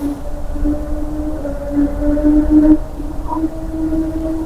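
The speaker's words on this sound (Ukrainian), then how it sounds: "шум траси. Тут за декілька кілометрів траса." Traffic on a highway several kilometres away carries as a steady, low droning hum with a faint tonal whine that swells slightly and fades, with no voices over it.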